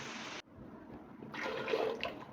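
Water pours into a pan while egg gravy is being made, starting as a brief splash, then a short pause, then a longer steady, splashing pour.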